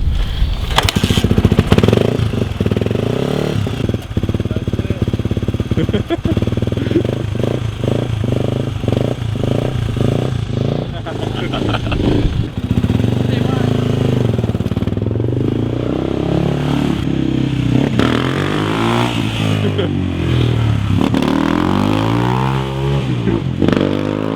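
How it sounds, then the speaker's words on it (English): A Nissan S14's engine runs on choke, a loud uneven idle with revving surges and pulsing throttle blips nearby, steady for the whole stretch with no speech over it. "Is that just the choke, Tommo?"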